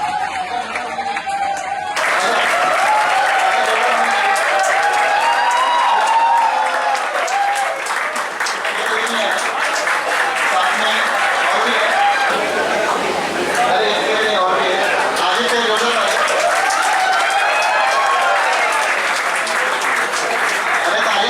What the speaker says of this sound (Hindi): तो जोरदार ताली स्वागत होना चाहिए।